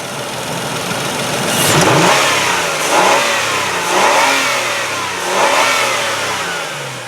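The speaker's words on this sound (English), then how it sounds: "this is the Nissan 3-liter engine, V6 of course. And now I'm gonna rev this baby up for you so you can hear how nice it is." A 3-liter V6 in a gray 2000 Nissan Maxima GLE is revved up several times, with loud, close surges that rise and fall in about four bursts and no talk over them.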